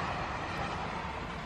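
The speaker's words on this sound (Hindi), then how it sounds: "passenger train" A passenger train rumbles past at close range, a dense continuous roar of wheels and carriages without breaks.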